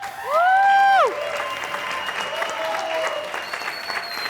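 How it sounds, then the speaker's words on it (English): Audience applause at the AI Song Contest 2023 award show in A Coruña, steady and moderately loud, opening under a short electronic tonal sweep that fades after about a second. "give a round of applause"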